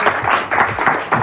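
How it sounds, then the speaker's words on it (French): A small audience claps loudly and close in uneven bursts for a woman named Janine at a live gathering in the Luis Mariano house in Arcangues. "On vous applaudit, Janine."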